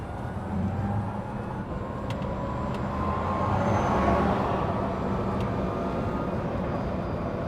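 A Renault Twizy, a small two-seat electric quadricycle, accelerates in a drag race, its rising motor whine blending with broad road and wind rumble that swells midway and holds steady.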